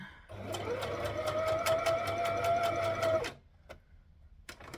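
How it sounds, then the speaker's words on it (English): A sewing machine stitches down the neck of a rashie in one close, steady run of rapid mechanical pulses lasting about three seconds, then stops, leaving a few quiet clicks and handling sounds. "So if we do stick the neck down, we'll just be stitching it like this."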